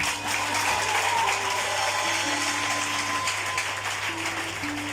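A church congregation at Morija claps together in sustained, even applause, fairly loud and filling the space, with a low steady hum and held musical tones underneath.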